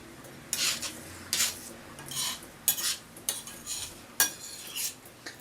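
A metal spoon stirring and scraping inside a Saladmaster titanium pan of cheese and onions, producing rhythmic rasping strokes about once a second, close and clear with no talking.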